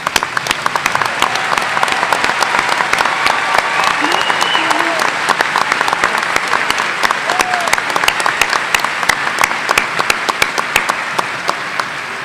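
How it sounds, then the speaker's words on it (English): A large audience at a college of osteopathic medicine graduation ceremony applauds for more than twelve seconds, a loud, dense patter of many hands with individual sharp claps standing out and faint voices underneath. "Please join me in a round of applause"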